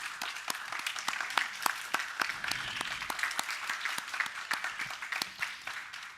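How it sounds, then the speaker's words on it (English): A standing congregation applauds speakers at a church faith forum, scattered individual claps close and distinct, moderately quiet and steady throughout. "Let's just stand and give a round of applause to our speakers."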